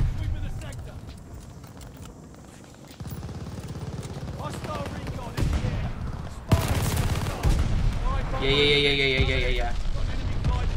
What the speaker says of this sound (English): Got a bombing run.